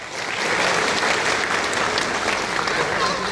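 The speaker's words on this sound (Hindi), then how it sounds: "तो एक बार सभी दोस्तों के लिए तालियां हो जाए" An audience at a business meeting applauds, a dense, loud wash of clapping that holds steady for over three seconds.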